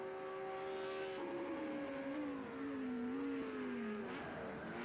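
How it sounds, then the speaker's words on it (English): GT3 race cars, a Lamborghini Huracan and a Ferrari, accelerate at Imola in a racing video game, a steady engine drone with rising and falling pitch sweeping through gears, moderately quiet with no talk. "It looks like the Lamborghini has the Ferrari covered coming out of the corners there."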